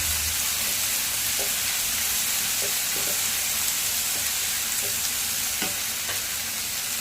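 Chopped medium-sized tomato fries and sizzles in a pan while being stirred, with a steady loud sizzle and intermittent scraping stir clicks, as egg podimas is cooked.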